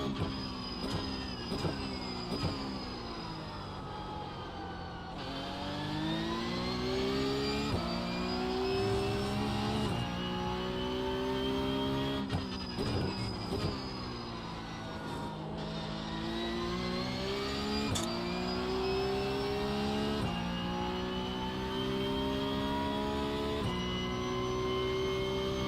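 Porsche Cup race car engine in a racing game revving through repeated gear changes, pitch climbing and dropping steadily, loud and continuous with no talk.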